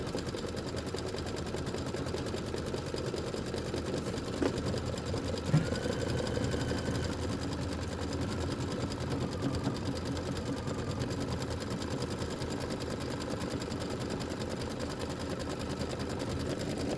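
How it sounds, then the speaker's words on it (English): Sewing machine with a walking foot running steadily as it top stitches a sleeve, a continuous close mechanical hum with fine rapid needle clatter and no pauses. "I'm going to do the top stitching on that right now."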